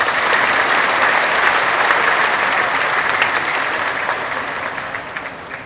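Sustained applause from a large audience honoring Sritex employees at a formal ceremony, dense steady clapping throughout that fades slightly toward the end, with no voices over it.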